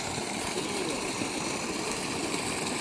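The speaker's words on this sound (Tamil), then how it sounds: "அந்த பம்பு செட்டு அடிக்குதான்னு சொல்கிறேன்" An irrigation pump set motor runs in a Tamil Nadu village field with a constant, rough engine chug that stays close and steady without a break.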